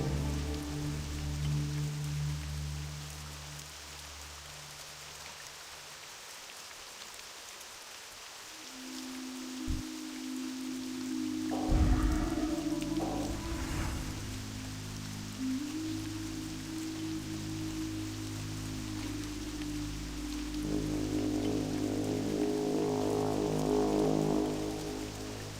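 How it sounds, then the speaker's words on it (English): Rain in the video game World of Warcraft, a continuous patter of falling drops under a shifting layer of game ambience and music tones, growing slightly fuller toward the end. "I actually didn't notice when it started raining here."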